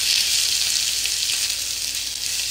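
Ridge gourd peel fries in ghee with a steady, dense sizzle that holds at an even level throughout, close up and without any voices.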